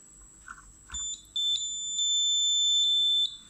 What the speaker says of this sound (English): this is how we can experiment with the buzzer